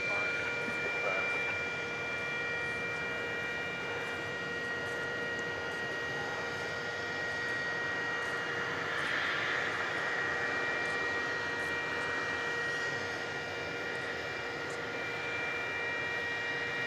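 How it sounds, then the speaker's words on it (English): An Airbus A320neo jetliner of Spirit Airlines rolls for takeoff at night, its engine roar a steady, distant broadband rumble with a faint whine. "Spirit Flight 3709 off to Los Angeles. It's an Airbus A320 of the Neo variety."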